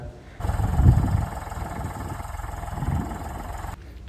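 A tractor engine drones steadily while sowing seed in a village field, its low mid-pitched rumble loud and close throughout, swelling slightly twice before the note drops away near the end.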